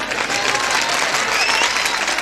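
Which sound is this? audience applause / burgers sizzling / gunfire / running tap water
audience applause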